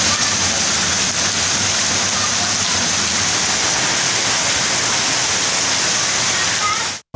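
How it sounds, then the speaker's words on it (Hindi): Heavy monsoon rain pours down in Punjab towns such as Hujra Shah Muqeem and Mandi Ahmadabad, a loud, dense, continuous rushing hiss that holds steady for several seconds before cutting off abruptly. "हुजरा शाह मुकीम, मंडी अहमदाबाद, शेरगढ़, बसीरपुर में मौसलाधार बारिश हो गई।"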